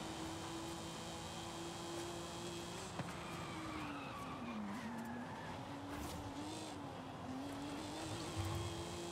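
Video game car driving with a steady engine drone whose pitch wavers as it turns, plus brief tire skids, moderately faint and with no talking.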